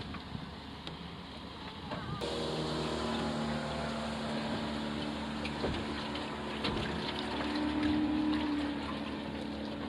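A boat's gas outboard motor steadily running at increased power, about 75 percent, while towing a dinghy, a continuous droning hum with a clear steady tone over water noise, moderately loud and unbroken.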